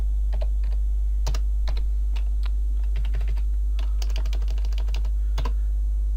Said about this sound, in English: if I type localhost